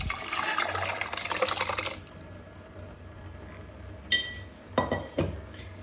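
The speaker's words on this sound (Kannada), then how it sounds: "ಬೇಳೆ ಟೊಮೊಟೊ ಈಗ ಇದಕ್ಕೆ ಹಾಕ್ಕೊಳ್ಳೋಣ." Cooked lentils and tomato going into a hot tempering for sambar: a brief sizzle first, then quiet, then a few sharp clinks of a utensil against a vessel, close by.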